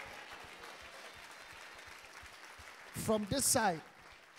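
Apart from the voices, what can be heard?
congregation clapping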